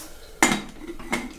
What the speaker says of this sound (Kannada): ಒಂದು ಸ್ವಲ್ಪ ಬೆಲ್ಲ ಹಾಕ್ತಿದ್ದೀನಿ